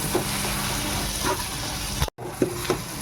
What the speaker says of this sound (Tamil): ரெண்டு நிமிஷத்துக்கு ஒரு முறை இந்த மாதிரி கிண்டி விடணும். இல்லைன்னா அடி பிடிச்சிக்கும்.